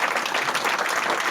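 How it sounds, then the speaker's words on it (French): A short burst of dense crowd applause at a foundation's 20th-anniversary celebration, steady and moderately loud, with no break or speech over it. "On s'applaudit."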